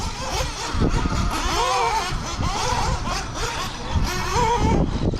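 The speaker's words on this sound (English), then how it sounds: "do some laps, see if we can get into the 34s with Buggy" An RC buggy runs laps on a race track, its high electric motor whine rising and falling as it speeds up and brakes through corners, with steady loud track noise throughout.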